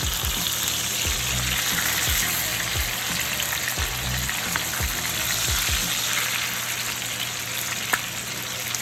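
Chicken pieces frying and crisping in a hot pan, a loud, continuous sizzle and crackle with occasional soft thumps as pieces shift, close and alone without talk.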